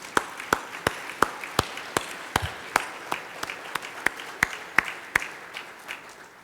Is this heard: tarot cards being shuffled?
no